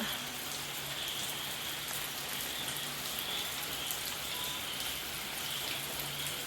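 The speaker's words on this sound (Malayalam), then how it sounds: "രാവിലെ തൊട്ട് തുടങ്ങിയ മഴയാണ് കേട്ടോ മഴയ്ക്കൊരു എന്താ പറയുക സ്റ്റോപ്പിംഗ് ഇല്ല എന്ന് പറയാം പെയ്തുകൊണ്ടേയിരിക്കുകയാണ്" Steady, continuous rain falling without pause, a dense even hiss of drops on surfaces, close and moderately loud, alone with no voices.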